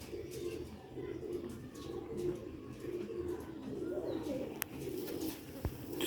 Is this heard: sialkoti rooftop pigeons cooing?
yes